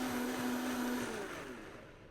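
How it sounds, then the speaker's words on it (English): A blender purees roasted tomatoes and chilies for Texas-style chili soup, its motor a loud close whine with a strong steady tone that drops in pitch and fades as it winds down. "Puree all this until it's completely smooth"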